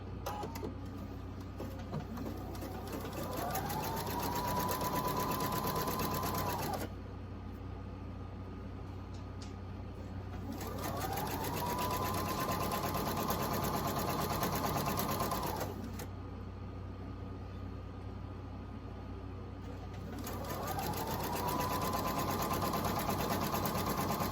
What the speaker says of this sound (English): so I got the first part sewed on